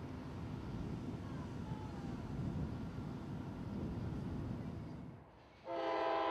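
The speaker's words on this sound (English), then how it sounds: "the first train of the day, my old buddy Q453, way across to Miami" Freight train Q453 passing at the 8th Street crossing near Tampa Union Station on the S-Line, a steady loud rumble of rail cars for several seconds that drops off, followed by a sharp horn blast.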